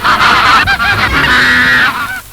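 A huge flock of ducks, some twenty-one thousand birds, rushes toward feeders at the ring of a bell, making a loud, dense, continuous chorus of close honking and quacking calls.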